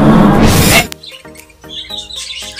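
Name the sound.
budgies chirping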